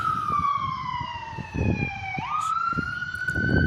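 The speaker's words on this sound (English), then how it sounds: "the siren of an ambulance" An ambulance siren wails continuously, its pitch sweeping down and then shifting to a new tone, fairly close, over traffic rumble, in Fort Smith, Arkansas.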